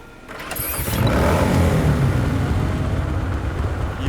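A motorbike engine starts in Cyberpunk 2077 and rises into a loud, steady rumbling idle that holds to the end, close and with no voices.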